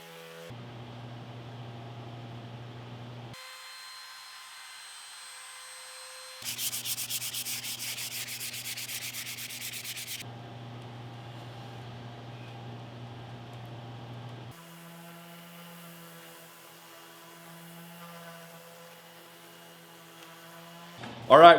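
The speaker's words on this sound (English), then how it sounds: "So I'm gonna hit this with the sander real quick." A power sander works over the legs of a small wooden furniture piece, a steady close buzzing grind that stops and restarts in several bursts with short pauses between passes, ending in a brief loud knock.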